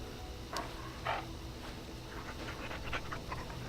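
A dog in the video game Dragon Age Origins pants softly at low level, with a few short breathy bursts over a steady background hum, no talking.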